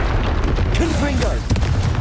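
A Confringo blasting spell fires in Hogwarts Legacy with a couple of sharp booming blasts over a dense low rumble, while a voice speaks in the middle.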